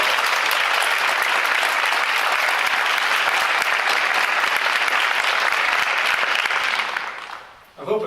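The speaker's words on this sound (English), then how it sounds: "let's give one more round of applause to all of our great students" Sustained applause from an audience at a school awards ceremony honoring students, a dense, steady wash of clapping that holds loud for about seven seconds before tapering off near the end.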